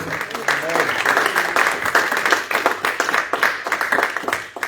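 A church congregation applauds and acclaims at a teaching service, with dense, uneven clapping that rises and falls in bursts, mixed with voices calling out over it.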